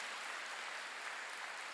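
A church congregation at a Wednesday service clapping together, a dense, even, continuous patter of many hands heard from a distance and fairly faint.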